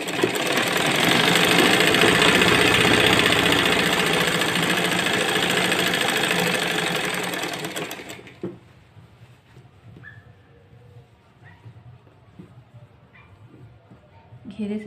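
Sewing machine stitching the side seam of a designer kurti, a loud rapid whirring run for about eight seconds that stops abruptly, leaving quiet handling noises and a voice speaking.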